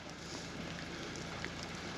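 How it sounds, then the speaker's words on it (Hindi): Steady rain falls in the snowy hill town of Dalhousie in February, a soft, even hiss filling the outdoor air without a break. "और बारिश हो रही है"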